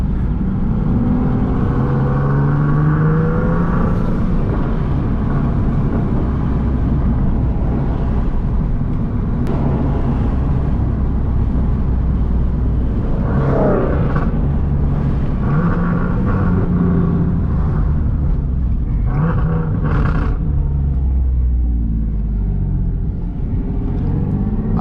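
A Nissan 370Z engine rumbles and revs loudly and continuously, with a deep exhaust drone and a few sharper rises in pitch.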